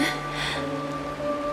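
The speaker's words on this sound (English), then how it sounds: "This is the sound of rain." Rain falls steadily as a soft, constant hiss in a video game setting from Honkai Star Rail. A faint tonal hum runs underneath, and nobody speaks.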